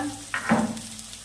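Ground turmeric, cumin, chilli, ginger paste and onion paste for a fish curry fry and sizzle in a pan, with a steady hiss and a brief scraping stir in the middle, close and moderately loud.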